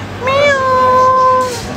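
A cat meows once, a clear drawn-out cry rising then holding steady for over a second, close and loud over a low background hum.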